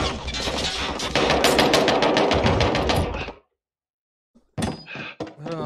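Rapid bursts of automatic gunfire in a Warfare video game, loud and continuous for about three seconds, then a sudden silence before a short spell of voice chat.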